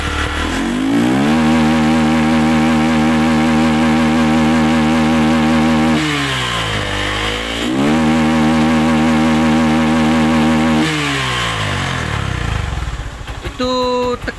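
A Yamaha Verza motorcycle engine with a suspected faulty ignition coil is revved hard and loud in two long sustained pulls, the pitch climbing and falling, then settles toward idle with faint speech near the end.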